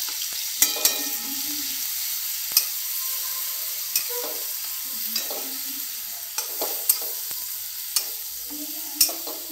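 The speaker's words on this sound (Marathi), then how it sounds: "हिरवी मिरची आणि लसूण बारीक केलं होतं मिक्सरमध्ये, तो टाकून त्याला" Green chilli and garlic paste fries in hot oil in a wok, a steady sizzle broken by sharp clicks of a spoon stirring against the pan at irregular intervals, close and clear.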